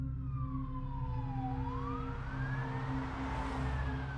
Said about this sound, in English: fire trucks roared down the street with their sirens wailing